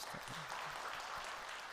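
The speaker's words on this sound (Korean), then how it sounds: "위로 박수 한번 합시다." Church congregation clapping in comfort for a bereaved evangelist during a Sunday worship service, a steady quiet patter of applause lasting a moment.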